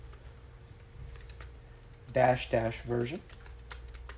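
Light keystrokes tap on a computer keyboard as a gcc version command is entered in a command prompt, soft and close, with someone speaking briefly partway through.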